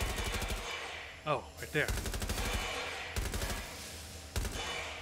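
Rapid automatic gunfire bursts in Watch Dogs: Legion, loud and repeated in several sustained volleys separated by short gaps, with a brief spoken remark in between.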